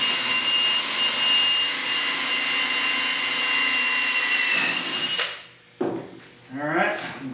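A power drill whines steadily at high speed for several seconds, boring an 1/8-inch pilot hole, then stops; a person starts talking right afterward.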